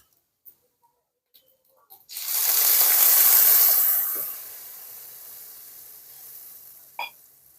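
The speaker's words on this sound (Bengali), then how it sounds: "এরপর আমরা এর ভিতরে পাঁচশো উষ্ণ গরম জল করে রাখা এই জলটা দিয়ে দেবো" Warm water poured into a hot pan of aloo posto bursts into a loud, close hissing sizzle that holds for about two seconds, then eases into a softer simmering fizz. A few small clinks come before it and one after.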